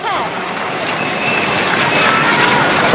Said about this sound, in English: And the cha-yo for Lin Dan is getting louder and louder.